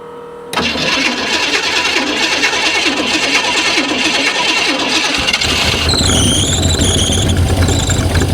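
A barn-find AMC Gremlin's Cadillac 500 V8, running on race fuel, fires up abruptly and settles into a loud, rough, continuous roar, close by, with a wavering high squeal toward the end.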